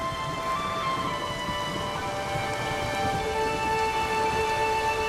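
Steady heavy rain drumming during a thunderstorm in The Witcher 3 video game, with no distinct thunderclap. A continuous, even downpour holds throughout under sustained tonal game ambience, with no voices.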